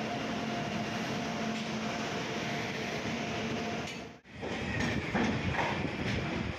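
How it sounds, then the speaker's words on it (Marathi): The 10115 Bandra Terminus–Madgaon Express pulls out of Panvel with a loud, continuous rolling roar that dips briefly midway, then resumes with faint rattles. No one speaks. "मित्रांनो फायनली आपली ट्रेन सुटले"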